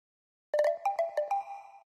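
MasterCard payment confirmation chime: a short, bright melodic sequence of quick tonal notes that ends on a held tone, clear and alone for about a second and a half.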